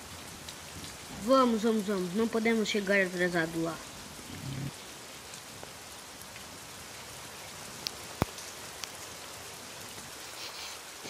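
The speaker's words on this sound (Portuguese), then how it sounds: "Parece que a chuva está aumentando" Steady rain patters throughout in the video game Jurassic Park Operations, with someone speaking briefly near the start, followed by a single sharp crack and faint scattered drips over the hiss.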